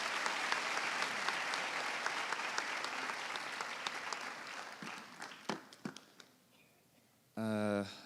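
An audience at a university welcome ceremony for new students claps loudly and steadily. The applause thins to scattered claps and stops, and a voice follows at the very end.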